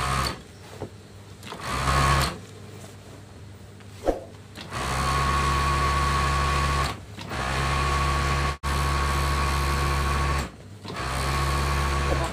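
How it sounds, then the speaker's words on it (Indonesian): Overlock sewing machine serging the edges of a quilt cover, running in loud steady bursts of whirring stitching separated by brief pauses, close and alone. "sekarang kita sudah di mesin obras dan sekarang saya akan mengobras bagian pinggiran ininya ya"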